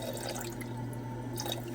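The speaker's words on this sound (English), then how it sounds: "I'm going to start off by covering this up with distilled water" Distilled water poured over karat gold scrap in a refining container, a steady trickling and splashing with brief drips, close and fairly loud over a low electrical hum, no talk.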